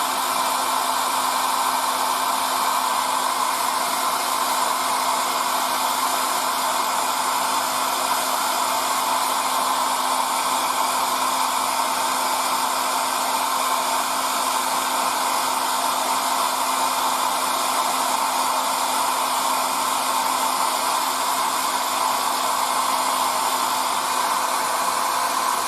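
Hair dryer blowing steadily to dry paint inside a 1:48 Eduard Hellcat Mk.I model kit, a constant loud whooshing hum with a fixed tone that holds unchanged for the whole span, close by and with no talk.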